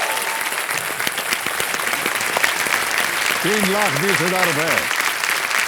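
Studio audience on a television quiz show applauding in a loud, sustained roar of clapping, with someone speaking briefly over it.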